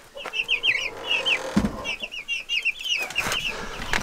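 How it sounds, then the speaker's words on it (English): A flock of Cornish Cross broiler chickens, nineteen birds on pasture, clucks and chirps in busy, overlapping bursts nearby, with a few thumps and rustles mixed in. "Now these are a Cornish Cross broiler chicken."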